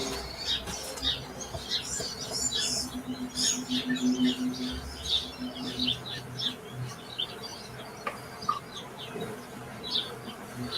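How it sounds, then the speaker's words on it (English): Birds chirp in short bursts against a low background hum, with light buzzing and rustling throughout. "I can hear the birds coming from my house back in my headphones"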